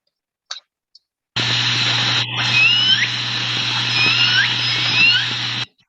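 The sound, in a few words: orca calls from L pod, bird-like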